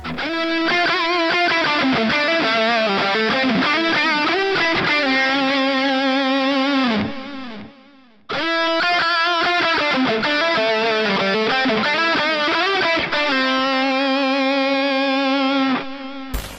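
Heavily distorted electric guitar plays sustained riffs and chords, loud and saturated, breaking off briefly midway before resuming.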